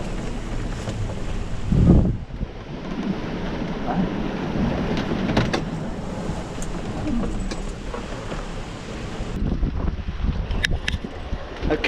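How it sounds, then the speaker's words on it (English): Strong wind buffets the microphone in a steady roar, with gusts and rushing water noise around a Contessa 26 sailboat at sea. "the wind's been getting up more and more, and it's now super strong"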